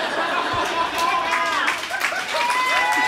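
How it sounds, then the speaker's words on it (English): Comedy club audience at a stand-up show cheering and clapping, a steady dense wash of applause with whoops and chatter mixed in throughout. "The guys cheering."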